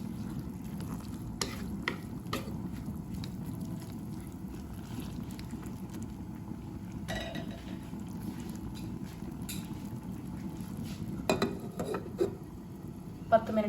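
Wheat vermicelli upma cooking in a pan: a soft, steady sizzle throughout, with occasional faint clinks and stirring taps near the end.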